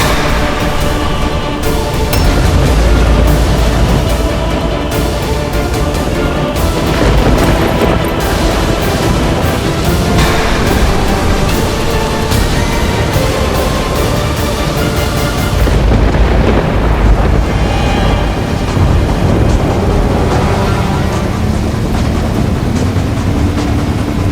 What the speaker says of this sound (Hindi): क्या बिजलियों की गड़गड़ाहट मात्र ने वानरों की इच्छा शक्ति को डगमगा दिया है?